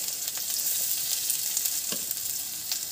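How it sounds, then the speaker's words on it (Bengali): Chopped garlic with black cumin frying in hot oil in a pan, a loud, close, steady sizzle with a few soft stirring scrapes and no voices. "রসুনটা বেশ ভালো করে ভেজে নেব।"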